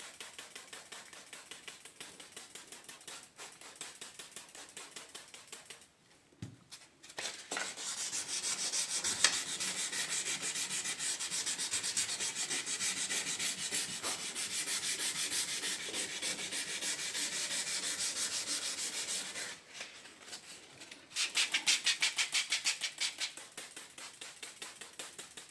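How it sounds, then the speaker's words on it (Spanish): Continuous rapid rubbing and scraping of 400-grit sandpaper wet-sanding a plastic car headlight, close and steady, with short pauses, resuming in long stretches of gritty back-and-forth strokes. "voy a empezar a lijar con 400."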